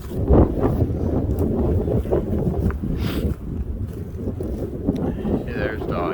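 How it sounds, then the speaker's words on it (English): Strong wind on a nature walk buffeting the microphone, a loud rushing roar in gusts throughout, with people talking briefly under it. "Holy, the wind picked up lots. Yeah, it's pretty windy now."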